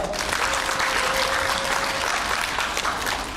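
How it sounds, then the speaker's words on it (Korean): Dense, steady applause fills a hall at a Korean school talk on studying in the US as an exchange student, loud and continuous throughout, with a faint steady tone underneath. "뜨거운 박수 맞이하겠습니다"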